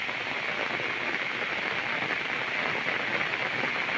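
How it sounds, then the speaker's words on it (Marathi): Steady rain pours over rice fields, a dense continuous hiss of drops with even loudness throughout and no voices or other distinct sounds. "पाऊस चालू"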